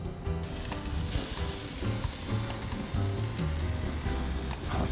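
Bacon-wrapped halibut fillets sizzle steadily on a greased grill, a continuous crackling fry with scattered pops and faint scraping, loud and close with no talking.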